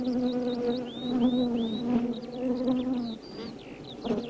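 Honeybees buzz at the hive in a dense, steady close drone, with individual bees whining past in rising and falling arcs throughout.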